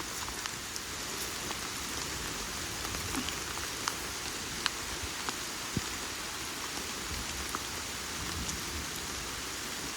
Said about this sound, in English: The rain's picking up again.